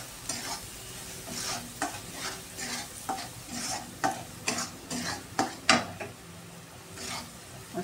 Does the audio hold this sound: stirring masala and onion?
yes